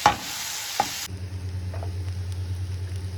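Potato fry being stirred in chili-powder-spiced oil in a pan: a loud burst of sizzling and scraping for about a second, then a low, steady hum of gentle frying.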